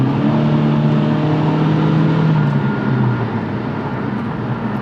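A 2022 Honda Civic 2.0L with a Ktuner tune accelerates at full throttle, its engine drone rising steadily in pitch and staying loud and close for several seconds before easing slightly near the end.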